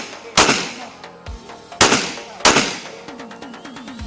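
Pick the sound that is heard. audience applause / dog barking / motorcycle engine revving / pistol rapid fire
pistol rapid fire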